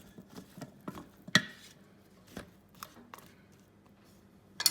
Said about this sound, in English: Give the chips a little bit of a stir.